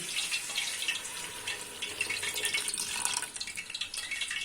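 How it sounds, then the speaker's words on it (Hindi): Water poured into a pressure cooker before spinach goes in for cooking, a steady bright splashing stream running without a break for a few seconds, close and fairly quiet, with no talking. "पानी इतना डालूंगा जिसमें मेरी पालक अच्छे से गल जाए।"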